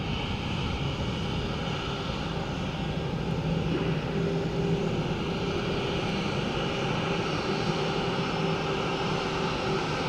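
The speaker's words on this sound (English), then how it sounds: "Airbus A320." Continuous steady roar of an Airbus A320 jet airliner at Dublin Airport, a broad engine rumble with faint tonal whine, heard from a distance and holding level throughout without voices.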